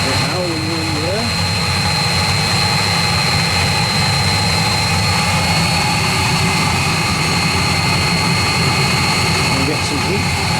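A 16 kW Chinese diesel water heater running at close range, a loud, unbroken burner roar with a steady mechanical hum and faint tonal whine throughout.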